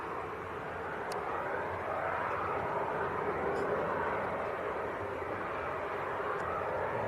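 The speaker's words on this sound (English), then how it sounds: "And this KLM should be popping into view in a matter of seconds" A KLM airliner approaching Leeds Bradford Airport makes a distant, steady engine rumble, broad and even throughout, heard alone.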